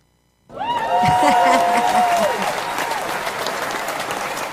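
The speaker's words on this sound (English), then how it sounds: "We'll do a little applause on that." Burst of audience applause on a talk show, starting abruptly after a brief silence and holding steady and full; a voice speaks over the clapping near the start.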